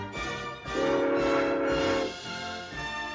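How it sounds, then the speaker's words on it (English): In a Tom and Jerry cartoon, a train horn gives one long loud blast over rumbling rail noise as the train approaches, then fades back into the rolling clatter. "as the sound of an approaching train is heard coming towards them"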